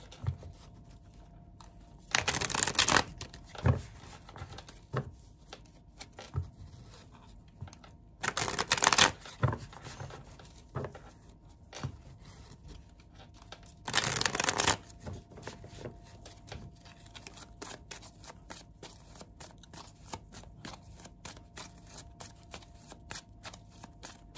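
Tarot cards being shuffled up close in three crisp riffling bursts a few seconds apart, with soft card handling and taps filling the quiet between them.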